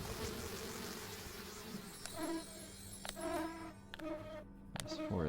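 Bees buzzing in the video game Popup Dungeon, a soft, steady droning hum with a few short tonal game effects layered over it, faint and without talk.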